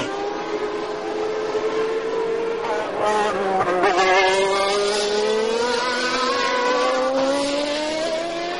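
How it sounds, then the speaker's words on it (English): Formula One race cars at a Grand Prix, several screaming high-revving engines whining and shifting pitch as they pass close by during a tight finish. "So this lap and the next one between Senna going into the left-hander at the end of the fast straight there and Riccardo Patrese in 2nd place."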